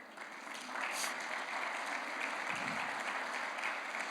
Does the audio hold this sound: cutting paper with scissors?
no